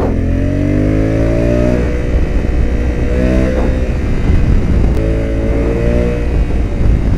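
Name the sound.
Honda Africa Twin motorcycle riding on a race track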